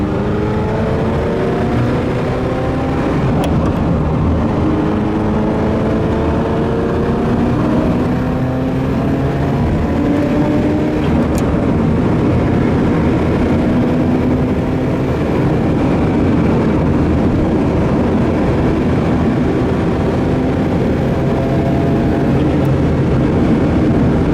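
A steady, loud engine drone from inside a moving 1990 US-spec Ferrari F40, with rising and falling harmonic tones as the revs change, continuous throughout.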